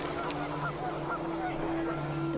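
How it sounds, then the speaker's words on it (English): Panicked geese honk in scattered, overlapping calls within the video game What Remains of Edith Finch, moderately loud over a steady tonal wind-like drone and background hiss. "panicked geese appeared and quickly went"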